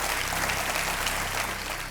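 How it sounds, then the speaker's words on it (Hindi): Studio audience on the KBC game show applauds for a guest, a steady wash of clapping filling the short stretch with a low hum or music beneath. "स्वागत किया जाए नलिनी सिंह जी का एक बार जोरदार तालियों के साथ।"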